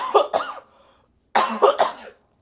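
Two bursts of coughing, each a pair of harsh close coughs separated by a short pause, from a person during a tabletop role-playing game session.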